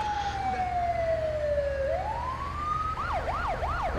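Ambulance siren in the video game GTA 5, fairly close and loud: a long falling wail that rises again, then switches to a rapid repeating yelp.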